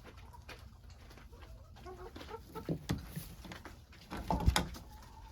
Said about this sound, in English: The chickens are feeling the springtime, definitely, at least the longer days.